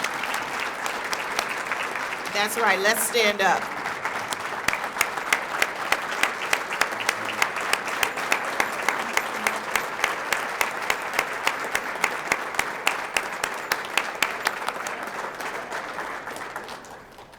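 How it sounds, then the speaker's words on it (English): An audience at a JROTC superintendent's breakfast for Wichita Public Schools claps in a long, steady round of applause, with a voice briefly speaking early on before the clapping carries on strongly and tapers at the end. "So let's give him a round of applause."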